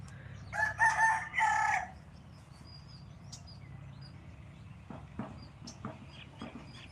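A rooster crows loudly nearby in one long, drawn-out call, followed by quieter clucks and chirps against a low background rumble.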